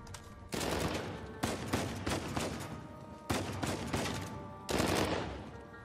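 Loud bursts of automatic gunfire from the video game Uncharted 4: A Thief's End, in four or five dense volleys broken by short gaps, with no one talking.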